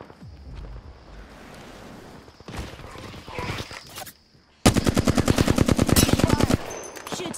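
Rapid automatic gunfire in the battle royale game Apex Legends, loud bursts of dense repeated shots after quieter game ambience and scattered single shots, close and dominant.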